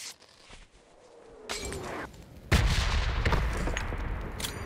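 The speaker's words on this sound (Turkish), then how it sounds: "Bir molotov da attım." A molotov cocktail lands in PUBG Mobile with a sharp crash of breaking glass, followed by a loud, sustained roar of flames.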